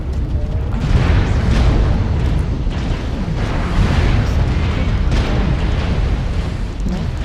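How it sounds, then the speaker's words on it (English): Artillery strike explosions in the MechWarrior Online battle game roll on continuously, loud rumbling booms layered over each other for the whole stretch, with several heavier blasts around the middle and near the end. "Artillery strike activated."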